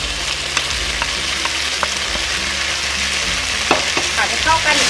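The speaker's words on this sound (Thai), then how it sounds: "ทีนี้ก็ผัดให้เข้ากันนะคะ" Spicy red tilapia stir-fried with basil and chili, a loud close sizzle with scattered scraping and tossing sounds from the stirring, steady throughout with no talking.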